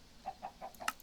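Chickens cluck in a Minecraft modpack game, a few short soft clucks spaced evenly and then a slightly busier burst, faint and alone without talk.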